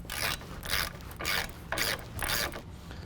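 A ratchet wrench clicks in five quick, even bursts as it loosens a 21mm tie rod nut at the steering knuckle of a 2017 Ford F-150 4WD, close and clear, with no talk.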